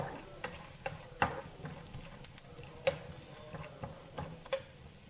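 Grated coconut roasting in a pan, soft scattered scrapes and ticks of a spoon stirring at irregular intervals over a faint sizzle, quiet and close, with no talking.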